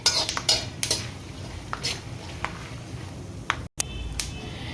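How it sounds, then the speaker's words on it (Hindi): Seeds crackling as they roast in hot ghee for gond laddu: scattered sharp pops and ticks over a faint sizzling hiss, fairly quiet and irregular. "देखो कितनी चट चट सी आवाज आ रही है ना"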